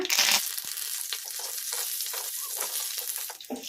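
Curry leaves and dried red chillies fry in oil over medium flame, a close, steady sizzle with sharp crackling pops and stirring scrapes throughout.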